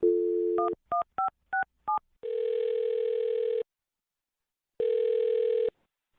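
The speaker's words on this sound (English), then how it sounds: "I'll dial this phone number right now and see if we can figure it out" A telephone number is dialed, a quick run of about six distinct touch-tone beeps followed by two long, steady ringback tones separated by a second of silence, clear and close.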